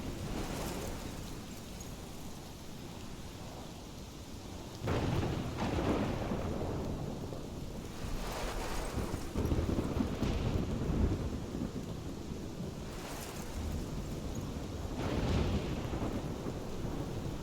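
Thunder rumbles and cracks over steady rain in a storm scene from the video game Life is Strange Remastered, with several loud rolling bursts rising over a constant wash of rainfall and no voices.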